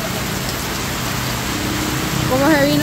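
Heavy rain from a sudden strong storm in Usulután, El Salvador pours down in a dense, steady roar, with a brief tonal squeal rising near the end.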